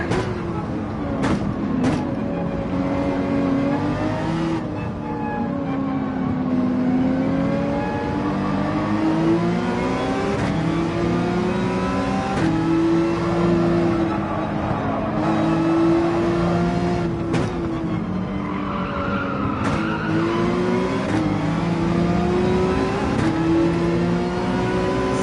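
Race cars in a racing video game accelerate and rev steadily throughout, engine tones rising and falling continuously at a loud, even level with a few brief clicks, no voices on top.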